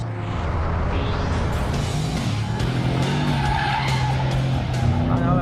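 Tyres of an MTM-tuned 1001 bhp Audi RS6 on Michelin rubber skid and squeal loudly and continuously over a deep, steady engine drone, close up throughout.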